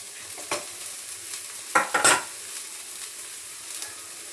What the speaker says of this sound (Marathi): तेलामध्येच 1 चमचा हळद घातली आणि कोबी.